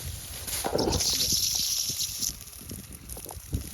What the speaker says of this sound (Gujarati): આવું પાણી નીકળી જાય તો ત્યાં નીકળી રહ્યું એવી રીતના કંઈક નીકળી જાય પાણી